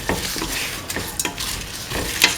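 A spoon stirs salt into a simmering lentil stew with snake gourd and coconut milk, giving soft repeated scraping strokes over a low bubbling sizzle, close and steady.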